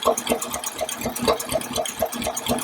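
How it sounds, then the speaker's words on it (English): A 1953 Packard engine idling with its valve cover off during a valve adjustment, a steady, evenly pulsing run with a light ticking rhythm, heard close up. "And and the engine note hardly changes at all when I do that."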